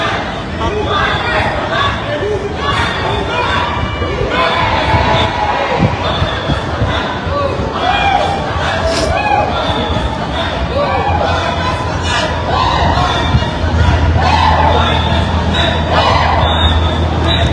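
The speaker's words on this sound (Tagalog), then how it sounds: "Daming sigawan dito" A crowd of Filipino overseas workers at a gathering in Vancouver, Canada shouts and chatters in a constant loud din, with a voice talking close by over it.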